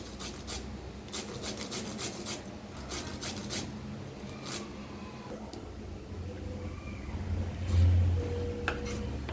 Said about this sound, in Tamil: கட் பண்ணல, துருவிட்டுருங்க